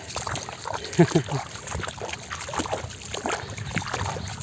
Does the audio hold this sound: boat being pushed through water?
yes